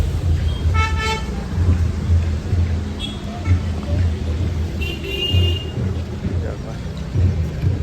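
A vehicle horn honks in busy road traffic, giving a couple of loud, clear toots over a constant low rumble of engines and road noise.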